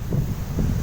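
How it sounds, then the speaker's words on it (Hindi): Strong wind blowing across an open area around Minar-e-Pakistan in Lahore, a steady low rumbling buffet that sounds close against the microphone, with gusts swelling briefly and no voices. "हवा बहुत ज्यादा इस वक्त चल रही है लाहौर में"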